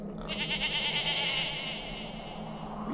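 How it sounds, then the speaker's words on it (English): A goat's bleat with added reverb rings out in one long, wavering cry that trails off into a lingering echo, fairly loud over a low background hum. "did you put reverb on the goat sound effect?"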